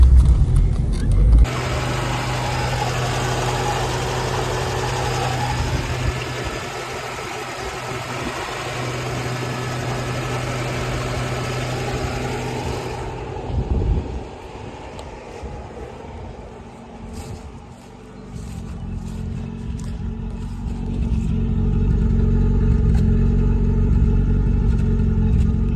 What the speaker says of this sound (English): so we've got a running, driving car